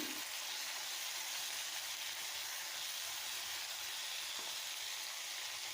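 Tomato, mint and coriander fry in a pan with a steady, close sizzle that hisses continuously and evenly, with a faint stir or knock near the start and again later.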